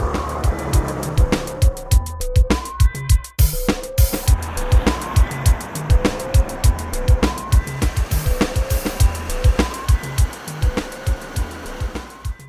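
A 125cc MBK Flipper motor scooter engine revs and blips repeatedly in short bursts, loud and close, with no talking.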